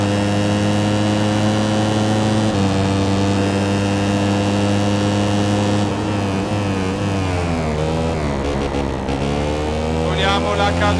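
A Moto3 racing motorcycle engine in the MotoGP 13 video game drones loud and steady at high revs, shifting pitch with gear changes and swelling with acceleration, while a voice talks over it.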